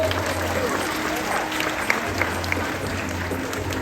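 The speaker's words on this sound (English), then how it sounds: "Give him a round of applause." Crowd at a tiger show applauding, a steady wash of clapping lasting the whole clip with a low background hum and a few sharper claps rising out of it.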